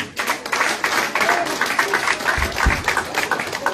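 A church congregation claps and applauds to acclaim the Lord, a dense, lively wash of many hands with rhythmic peaks throughout.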